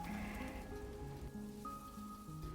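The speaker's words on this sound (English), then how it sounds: "Saute the garlic and onion, as well as the spring onion whites." Garlic, onion and spring onion whites sauté in smoking-hot oil in a wok, making a steady, dense sizzle like light rain, with soft background music running underneath.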